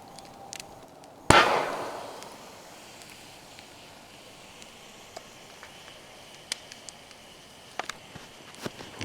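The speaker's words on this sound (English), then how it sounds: "You can hear that can popping." One sharp, loud pop from a soda can fired in a can cannon rings out and fades over a second, followed by quiet rustling and a few faint, scattered clicks.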